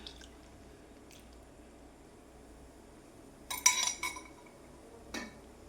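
Cornflour slurry is poured into boiling mango puree for halwa: a brief, close splashing pour after a quiet stretch, then a single clink of a utensil on the pan.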